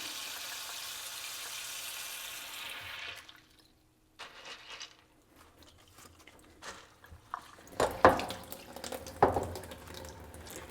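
Water flushing through a plant pot filled with LECA clay pebbles, a steady rushing stream at first, then quieter trickles and a few louder splashing bursts near the end.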